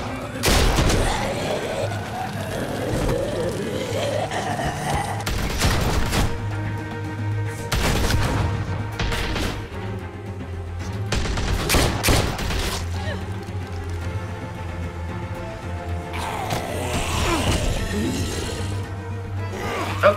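Scattered shots and booming bursts in The Walking Dead Telltale video game, a handful of loud blasts spread across a busy bed of game music and ambience.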